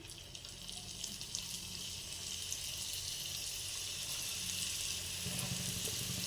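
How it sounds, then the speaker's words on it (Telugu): Dry fruit kajjikaya frying in very hot oil, a constant fizzing sizzle that holds level and fairly soft throughout, with no talking. "వేసుకునేటప్పుడు ఆయిల్ చాలా హీట్లో ఉంటుంది, జాగ్రత్తగా వేసుకోండి"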